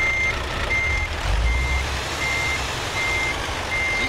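A lorry in Euro Truck Simulator 2 sounds steady evenly spaced reversing beeps over a constant low engine drone, close and unaccompanied by talk.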